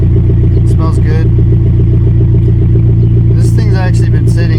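A Yamaha V Star motorcycle idles with a louder aftermarket exhaust, giving a steady, close, loud rumbling pulse throughout, with a few brief clattery sounds on top.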